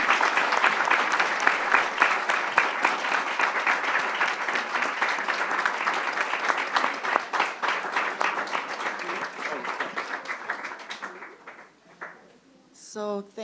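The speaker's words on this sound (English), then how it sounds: "let's give our panel a round of applause and gratitude" An audience claps for a panel discussion, a dense burst of applause that holds strong for about ten seconds, then thins and fades out. A voice speaks briefly near the end.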